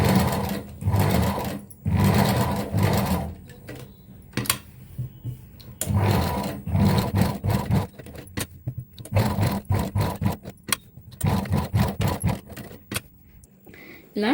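A sewing machine stitches around a blouse design in repeated bursts, its rapid mechanical whirring starting and stopping with short pauses between runs, close and fairly loud, with someone speaking quietly in places.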